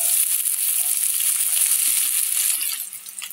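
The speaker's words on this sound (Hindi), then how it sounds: "तेल गर्म हो जाएगा तो इसमें डालेंगे प्याज" Onions hit hot oil in a kadhai for veg chow mein, letting out a loud, close, bright sizzle with a few soft clinks that fades slightly at the end.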